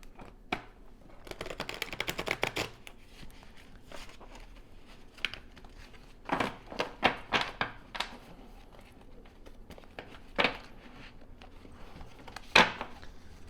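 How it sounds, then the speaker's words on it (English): Light Seer tarot cards are shuffled by hand in uneven bursts of soft riffling and sharp card taps, close and fairly quiet, with pauses between the flurries. "if my shuffling is a little messed"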